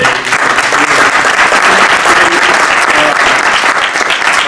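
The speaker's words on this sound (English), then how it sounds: "So, round of applause for those guys." Sustained audience applause at a music industry conference, a dense, steady wash of many hands clapping at close range for the full stretch, with no pause.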